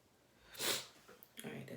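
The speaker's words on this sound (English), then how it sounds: "Let me stop sniffling because that shit can get annoying." A single strong sniffle close to the mic, followed by breathy nasal sounds and the start of talking.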